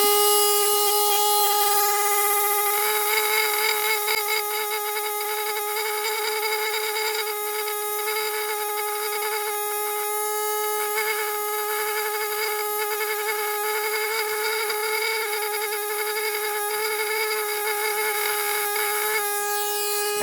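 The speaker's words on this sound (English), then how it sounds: "Then come back with the smaller air scribe" A small pneumatic air scribe cleaning a fossil viper fish: a steady, high-pitched buzzing whine with strong tonal harmonics, running close and continuous with slight flutter throughout.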